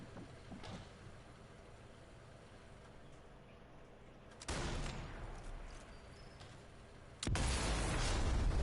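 Sniper rifle shots in the Sniper Elite shooter game, two sudden loud broadband blasts several seconds apart, each followed by a lingering rumble over quiet ambient background, with no talk.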